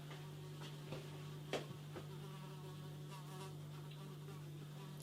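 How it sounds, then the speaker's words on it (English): Flies buzz steadily around a glass of Camden Town Marmite Ale, a faint, continuous drone with a low hum beneath and a few soft knocks. "It's attracting flies."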